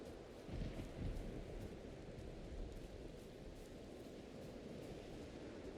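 A storm rages outside in the Valheim video game, a steady low rumbling wash of rain and wind that holds at a constant level throughout.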